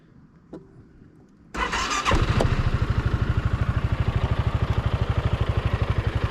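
A 2003 Aprilia Scarabeo 500 scooter engine cranks and catches after a quiet moment, then settles into a steady, rapidly pulsing idle close by.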